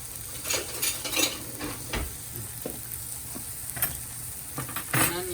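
Wild hog bacon frying in a dry pan with no oil, cooking in its own fat: a constant sizzle broken by scattered clinks and scrapes of a spatula against the pan, with no talking.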